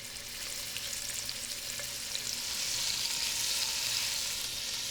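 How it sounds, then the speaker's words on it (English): Seasoned meat browning in a single layer in a frying pan, a soft, steady crackling sizzle that swells slightly toward the end, with no voices. "Just salt, pepper, and then I'm going to brown them in the pan."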